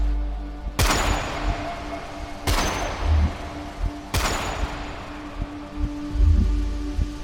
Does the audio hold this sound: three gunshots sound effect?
yes